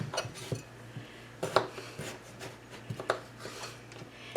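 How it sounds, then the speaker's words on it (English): A knife cuts washed, unpeeled potatoes into chunks at a campfire cooking setup, giving irregular scraping and tapping strokes against a board, fairly close and moderately quiet, with no talk. "the next thing I'm going to do is cut up a couple of potatoes"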